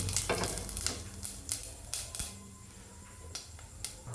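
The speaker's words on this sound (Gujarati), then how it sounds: "હવે આપણે આમાં અડધી ચમચી જેટલું જીરું નાખીશું।" Cumin seeds crackle and sizzle in hot oil for Gujarati sweet kadhi, with a steady frying hiss broken by sharp pops and a few spoon scrapes against the pan.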